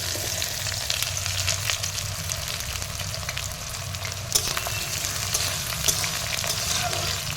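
Onion and a bay leaf fry in sweetened oil, giving a steady, close sizzle with occasional stirring clinks and scrapes throughout, no voices.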